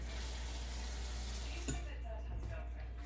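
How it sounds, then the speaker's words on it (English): Cold water splashes out of a container into cornstarch for gravy, a brief pouring hiss that rises and then fades partway through, with a person talking quietly around it. "Now I'm going to add cold water."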